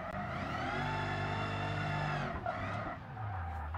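A car drifts in the BeamNG driving simulator, its engine holding a loud sustained tone while the tires squeal steadily through the turn, then the pitch drops and the revs shift as the slide ends.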